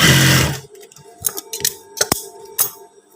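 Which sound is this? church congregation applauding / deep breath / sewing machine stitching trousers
sewing machine stitching trousers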